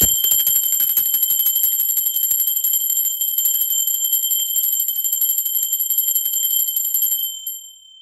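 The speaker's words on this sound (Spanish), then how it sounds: "¡va campana!" A bright bell rings continuously with a shimmering, sustained high tone that holds steady for several seconds before fading out.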